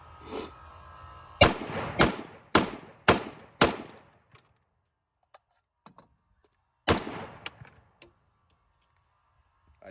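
A 6.8 SPC rifle fires five sharp, loud shots in quick succession, then after a pause comes a lone shot, with faint clicks and handling noises between them and no talk.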